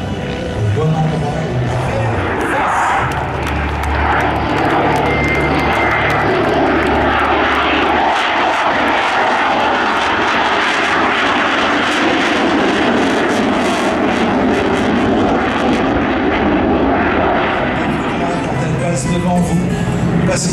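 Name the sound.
propeller airplane flying at an airshow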